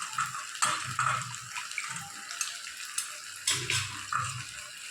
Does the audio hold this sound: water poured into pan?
yes